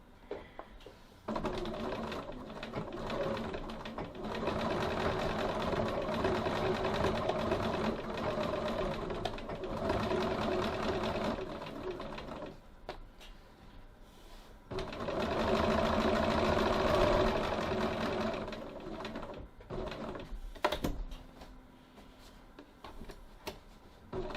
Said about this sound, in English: So now I'm going to stitch around my pocket, back tacking at this corner.